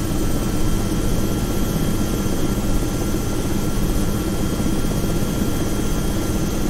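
An aircraft engine drones loudly and evenly during takeoff in the X-Plane 11 flight simulator over São Paulo, a dense steady roar with faint high tonal whines and no breaks.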